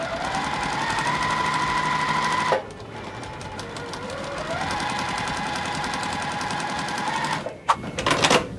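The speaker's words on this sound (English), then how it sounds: "I'm just gonna keep sewing until I have a little square" A sewing machine stitches puff quilt squares in fast, even mechanical bursts up close, pausing briefly a couple of times before resuming, with no talking.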